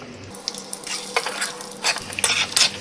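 Garlic sizzles gently on low heat in a pan while a spoon stirs and scrapes, with small clinks over the steady frying hiss.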